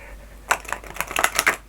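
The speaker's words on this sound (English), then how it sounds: "it is easy to shuffle them, to riffle shuffle them sideways" Flexible laminated oracle cards are riffle shuffled sideways, giving a quick run of close, crisp flicking clicks over about a second.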